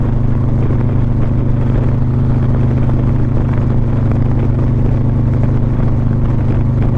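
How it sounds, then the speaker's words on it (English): A motorcycle engine drones steadily at cruising speed on a highway, a low continuous rumble with wind noise and no talking. "It's a great sounding motorcycle."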